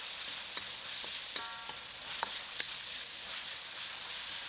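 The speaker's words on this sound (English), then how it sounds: "In a wok over high heat, place in the avocado oil or other oil of your choice. Also add the ground pork. And stir fry until cooked" Ground pork stir-frying in avocado oil in a wok over high heat gives a soft, steady hiss, broken by a few light clicks and taps of a spatula against the pan.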